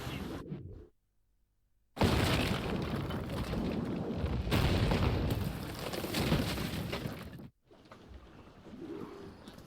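Naval cannon fire from enemy ships in Assassin's Creed Rogue: a brief boom, a sudden silent gap, then a long loud roaring burst of blasts and rumble that cuts off sharply before quieter sea ambience returns.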